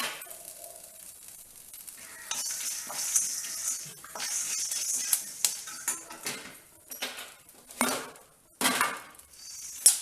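Asafoetida dropped into hot oil in a pan after the stove is switched off, giving a brief crackling sizzle among clinks of utensils and a stirring spoon, close and fairly quiet.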